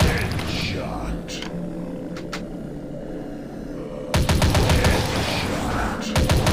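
Rapid bursts of gunfire from the zombie shooter video game Dead Target, dense and loud, pause briefly and then return in fierce volleys, with game voice announcements heard among the shots.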